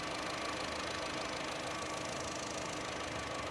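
A 2017 Honda Amaze S petrol car sits idling, its engine a faint, smooth, steady hum with a light low-end pulse, heard alone without talking.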